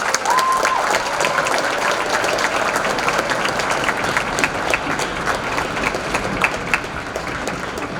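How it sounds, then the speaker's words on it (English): An audience applauds at a district orchestra concert, steady dense clapping filling the hall from start to finish at a fairly loud, even level with no break. "please give a round of applause for our wonderful team"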